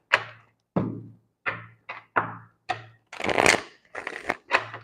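A large 144-card tarot deck being shuffled by hand: a series of separate riffles and dull card knocks close up, about eight bursts spaced irregularly, with no talking.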